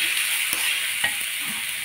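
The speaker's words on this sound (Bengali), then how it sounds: "দিয়ে সব কয়টা আমি ভালো করে একসাথে নেড়ে মিশিয়ে নিব" Coconut, sugar, bay leaf, cashews and raisins stirred together in a hot pan, a steady close sizzle with a few soft scraping strokes, and no one speaking.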